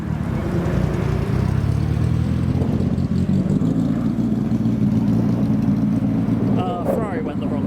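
A Ferrari pulls away from a car show, its engine a loud, steady rumble close by, with heavy wind buffeting on the microphone throughout.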